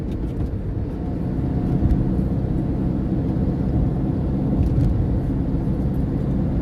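Car cruising along a Belgian motorway at around 100, heard from inside the cabin as a steady low engine drone and road rumble that holds even throughout.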